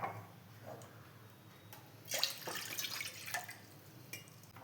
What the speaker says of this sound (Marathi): त्याच्यासाठी कढईमध्ये मी पाणी घालून घेते